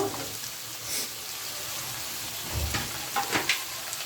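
Potatoes and pointed gourd frying in oil in a pan, a steady soft sizzle throughout with a few brief clinks and stirring scrapes near the end.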